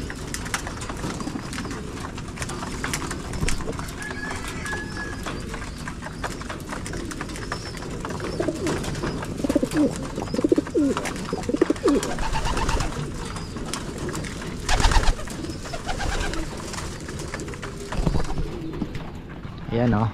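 Pigeons coo softly in a pigeon loft, low murmuring calls under someone talking nearby, with shuffling and scattered thumps around them.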